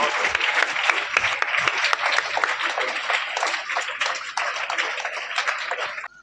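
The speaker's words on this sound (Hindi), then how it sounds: "जोरदार तालियों से हम सबका अभिवादन करें।" Sustained, loud applause from a school seminar audience as the standing teachers are honoured, dense steady clapping throughout the hall that cuts off abruptly at the end.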